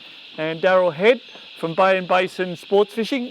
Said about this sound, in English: I don't know whether you heard those cicadas in the background